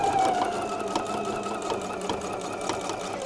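A sewing machine backstitches along a tote bag seam, running in a fast, close, even whir with light mechanical clatter throughout.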